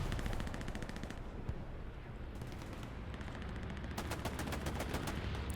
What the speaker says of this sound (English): Top Gun 57 trying to mow down Royal, but Royal dodges the rounds